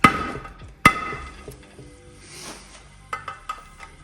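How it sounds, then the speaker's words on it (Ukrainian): A hammer lightly taps a screwdriver while dismantling an old television: two sharp metallic taps ring out close by, followed by a few lighter clinks and faint shuffling in between. "Я беру звичайну викрутку та молоток і стукаю легенькими ударами."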